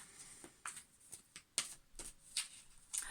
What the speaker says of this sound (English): I'm going to pull some quantum illumination activation guidance cards.